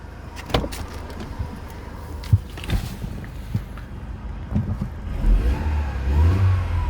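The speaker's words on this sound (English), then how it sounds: "Car is running, moving until you remove the ignition." A Mercedes car engine idles with clicks and knocks nearby, then revs up, the motor's drone swelling louder toward the end.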